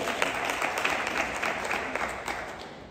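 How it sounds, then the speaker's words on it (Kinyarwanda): Applause from wedding guests in a Rwandan celebration, a moderately distant wash of clapping with individual claps popping out at a steady pace. "dukomere Imana amashyi menshi cyane"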